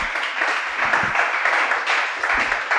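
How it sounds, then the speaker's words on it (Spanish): An audience claps at a church study session, a steady wash of applause filling the room for a few seconds with no one speaking. "Un aplauso para"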